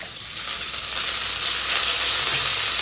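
Curry leaves sizzle in hot oil while being fried for a mutton curry, a steady, loud, dense hiss and crackle lasting throughout with no voices.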